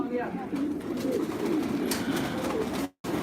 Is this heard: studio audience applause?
no